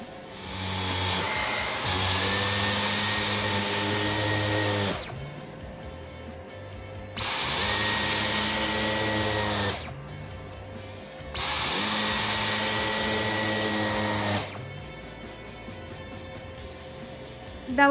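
Dyson vacuum cleaner running in three loud, steady bursts of about four seconds each, drawing dog hair off a bed, with short quiet gaps between passes.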